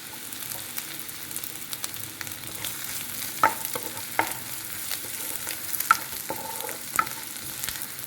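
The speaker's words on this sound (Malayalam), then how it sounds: "ഒരു ടീസ്പൂൺ സൺഫ്ലവർ ഓയിൽ ഒഴിച്ചിട്ടുണ്ട്. ഇനി നമുക്ക് വെളുത്തുള്ളി ഇടാം. നന്നായിട്ട് ചതച്ചതാണ്." Crushed garlic fries in a teaspoon of sunflower oil in a pan with a steady, close sizzle, broken by a few sharp stirring clicks and scrapes.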